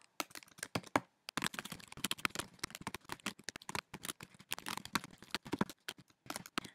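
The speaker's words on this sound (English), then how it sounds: "you're just going to start typing" Rapid, uneven clicking of keys on a computer keyboard, close and steady with brief pauses, no voices.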